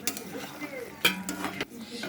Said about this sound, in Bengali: একটু পরে ঢাকনাটা খুলে আলুগুলোকে একবার নেড়ে নিলাম